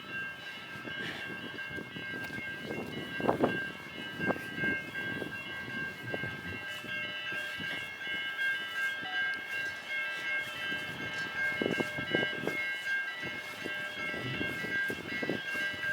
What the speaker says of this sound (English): Oh, and a train's coming.